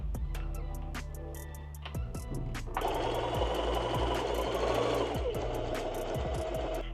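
A sewing machine hems the bottom of baggy shorts, with a steady mechanical hum punctuated by rapid ticking stitches that speed up into a denser buzzing run midway.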